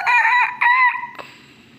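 A rooster crows on a farm, a single loud, close cock-a-doodle-doo in a few rising and falling bursts, heard alone and fading out at the end.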